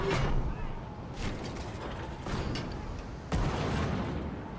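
Pirate ship cannons fire in the Skull and Bones video game, three or four sharp booming blasts spaced about a second apart, each trailing off into a mechanical rumble.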